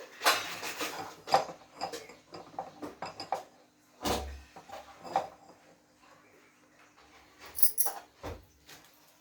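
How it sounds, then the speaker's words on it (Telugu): A metal kadai (wok) is set onto the stove for tempering dal in a home kitchen, with scattered clanks and knocks of cookware, one heavier thud, and quiet handling noises between them. "తాలింపుకి ముందుగా కడాయి పెట్టుకోవాలండి."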